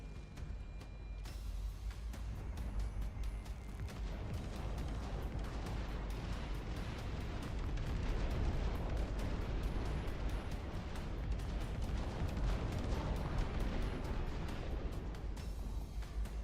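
Cannons fire in the real-time strategy game Dust Front, a dense, sustained barrage of booms and blasts rolling on for many seconds in a thick wall of battle noise.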